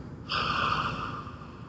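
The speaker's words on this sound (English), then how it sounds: "Inhaling through our mouths, holding for a moment, then exhaling through our mouths" A single audible breath through the mouth during a church service: a soft, airy exhale that starts abruptly and fades over about a second and a half, quiet and close.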